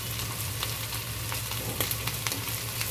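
Small fish paturi with taro stems sizzling in a pan, a steady frying hiss with sharp ticks and pops of stirring that grow more frequent toward the end, and a low hum underneath.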